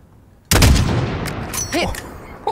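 A sniper rifle fires at a target 600 meters away in Call of Duty: Modern Warfare: one sudden loud crack with a booming tail that rolls on and fades over about two seconds.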